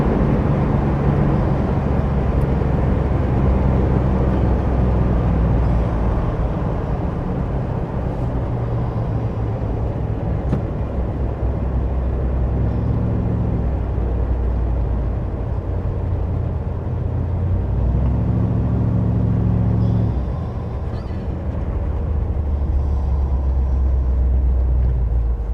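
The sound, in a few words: 1956 Chevy Bel Air hardtop engine running while driving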